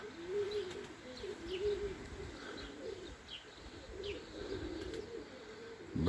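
Racing pigeons coo softly at their loft after a 350 km competition flight, with low repeated coos and faint chirps at a quiet, close level and no voices.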